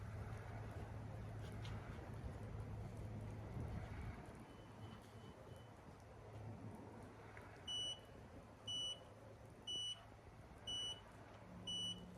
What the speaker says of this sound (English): you can hear my timer expiring